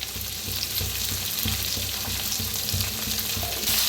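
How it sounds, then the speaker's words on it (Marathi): Peas roasting in a pan with salt, producing a continuous close crackling sizzle with soft rhythmic stirring scrapes, no voices. "मटरला बी भाजून घेऊया"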